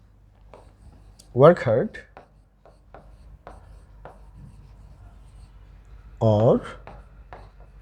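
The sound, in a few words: writing on a board during a lesson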